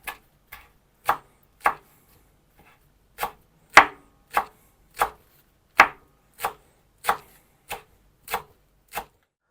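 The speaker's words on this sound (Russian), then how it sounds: "И тоже, конечно, очень меленько нарезаем." Dark blue basil is chopped finely with a knife on a board, giving about fourteen crisp, separate knocks in an uneven rhythm, close and clear against near silence.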